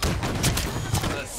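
Dense, rapid gunfire crackles in a Slayer-mode first-person shooter match, a loud continuous volley of shots and bursts lasting the whole moment, with sharper peaks near the middle and end.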